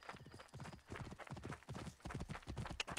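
Horse hooves in the video game Assassin's Creed Origins, a rapid rhythmic clip-clop of galloping strides that repeats steadily for three seconds, quiet and close, with no talk over it.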